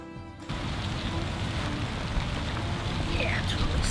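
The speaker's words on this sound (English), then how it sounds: "Yeah, it's really starting to rain." Steady rain falls in the Vermont Green Mountains in autumn, starting abruptly and then continuing as a dense, even hiss of drops with no voices.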